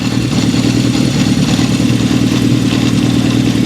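A 1972 Honda CB750 Four engine runs steadily at idle, with a loud, continuous low throb and a rattling vibration from the rear drive sprocket area, heard close up and without speech.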